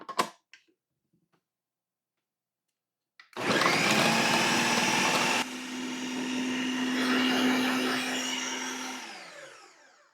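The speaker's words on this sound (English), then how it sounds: "We're going to puree some jalapenos. I'm doing 2 pounds of jalapenos." Blender whirring loudly as it purees two pounds of jalapenos, starting abruptly after a quiet moment and running steadily with a shift in pitch midway before winding down.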